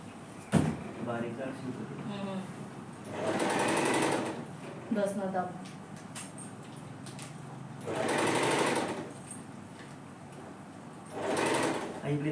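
A sewing machine runs in three loud mechanical bursts of rapid stitching, with someone talking in the quieter gaps between them.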